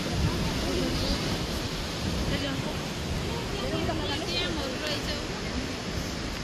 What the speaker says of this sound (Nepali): तामाकोसी किनारबाट झरना हेर्दैछौँ अवलोकन